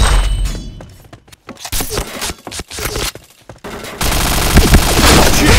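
Rapid bursts of MP7 submachine gun fire in the shooter game Point Blank, loud and dense, with automatic volleys, short gaps and continuous firing at the end, backed by game effects.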